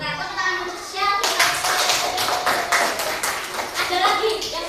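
Children in an Indonesian classroom clap together on the teacher's cue, a burst of brisk, near hand claps mixed with young voices.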